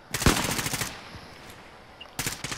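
Video game gunfire: two close bursts of rapid automatic shots, the first longer, separated by a quieter gap with faint ambient game sound.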